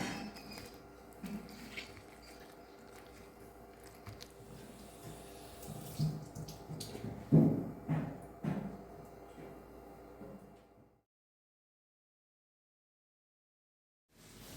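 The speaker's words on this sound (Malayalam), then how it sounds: "ഫ്രണ്ട്സ്, ഇവിടെ ഭയങ്കര മഴ വന്നുകൊണ്ടിരിക്കുകയാണ്" Heavy rain makes a steady broadband wash with louder surges in the middle, then cuts off to silence for the last few seconds.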